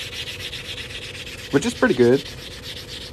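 Soft, steady rubbing of sandpaper on the cut edge of a silver Walking Liberty half dollar being made into a ring, quiet and close, with someone briefly speaking over it.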